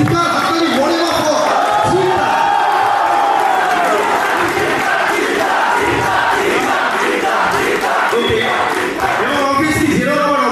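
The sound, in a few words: crowd shouting and clapping at a movie trailer launch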